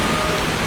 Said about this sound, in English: due to the rain and the sound is very noisy, it's very difficult to listen, to hear.